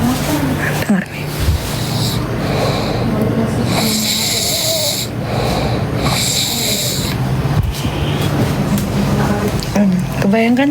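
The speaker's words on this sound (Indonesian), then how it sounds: "Tiap hari ku dengar tuh suara ngorok kayak gitu di kupingku." Heavy snoring and snorting comes from a husband asleep nearby, rhythmic rattling breaths repeating loudly through the stretch.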